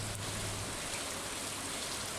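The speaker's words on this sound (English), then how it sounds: "and it's raining" Steady rain falling in the farming game Stardew Valley, a dense even hiss of pattering drops that stays constant and moderately loud throughout, with no voices.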